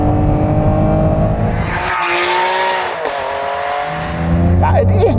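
Ferrari 599 with 620 horsepower driving on a damp road, its engine loud and close, droning steadily with a gear change and rising revs, and someone speaking over it.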